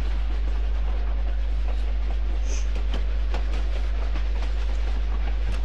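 A desert train rolls along steadily in Tomb Raider 4, a continuous loud rumble with faint rhythmic clatter and no talk.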